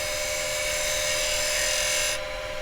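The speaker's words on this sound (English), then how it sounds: "now I'm going to drop over to the detail chisel same as we did to get the finish" Scrap wood spins on a wood lathe while a carbide detail chisel works the surface, making a loud, steady high-pitched whine with a constant tonal hum that cuts off sharply shortly before the end.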